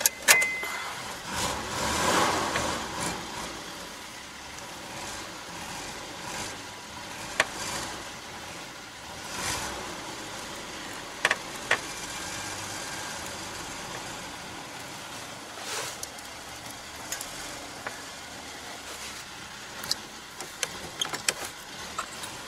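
A car engine cranks and catches, then idles and runs steadily at close range, with occasional clicks and knocks from inside the cabin over the low, even hum; no one speaks.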